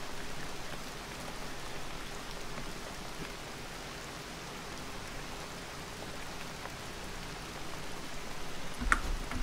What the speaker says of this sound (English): It has to be a rainy day on H1Z1 today, isn't it?